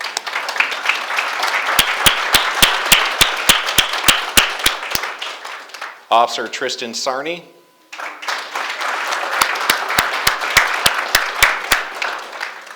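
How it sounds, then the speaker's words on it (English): An audience at a police swearing-in ceremony applauds new officers, with sharp individual claps standing out over a steady wash of clapping, broken midway by a voice announcing a name before the applause resumes. "you can clap"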